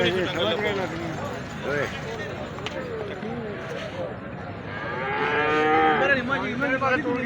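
Young buffalo calves moo repeatedly, close and loud, with long drawn-out calls overlapping voices talking nearby at a livestock market.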